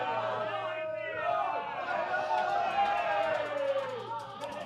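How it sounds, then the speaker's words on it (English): A crowd at a Blackball rules pool match cheers and shouts loudly after a pot, a sustained roar of many voices filling the room. "that's probably got the biggest cheer of the night"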